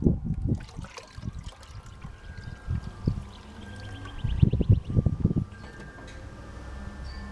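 Water sloshes and trickles in a gold prospecting pan, in uneven swirling bursts with light splashes, close by and without speech.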